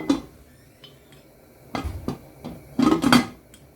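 A metal lid set onto a cooking pot while rice and chicken are prepared: a few light clinks and taps, then a louder double metallic clatter as the lid settles, close and sparse.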